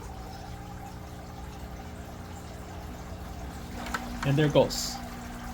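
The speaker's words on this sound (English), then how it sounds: "And then you add your water through there." Water poured into a hygger quiet hang-on-back aquarium filter makes a brief, close splashing gurgle near the end, over a low steady hum, with a short spoken remark just before it.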